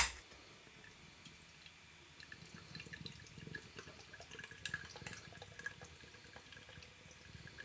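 Abbeydale Brewery Pilgrim, a 5% pumpkin spiced ale, pours from a can with a faint, trickling, splashing flow that stays quiet throughout.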